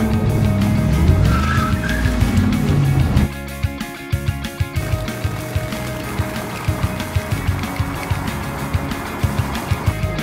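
A car on an Oslo street pulls away with loud tire squeal and skidding, the engine revving hard under the screech, followed by rhythmic engine pulses as it drives on.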